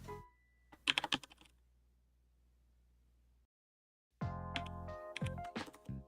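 Someone types on a computer keyboard with keys that keep cutting out. A short burst of sharp, close clicks comes first, then a near-silent gap, then a louder stretch of clicking over a sustained tonal hum.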